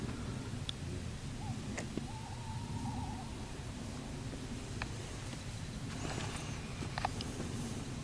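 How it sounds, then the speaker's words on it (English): Owls hoot in the Forest of Dean at night, one short wavering hoot near and a fainter one further off, over a low steady background hum. "hear the owls, can't you?"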